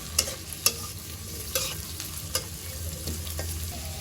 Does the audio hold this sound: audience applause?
no